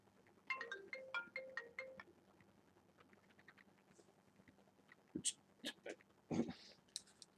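A telephone ringtone plays as a short burst of repeating electronic tones, faint and close, followed by scattered clicks and small handling noises on a quiet line.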